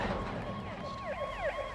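Police sirens wail in Marvel's Spider-Man video game, several rising and falling sweeps overlapping at moderate loudness over a steady background rumble of the city scene.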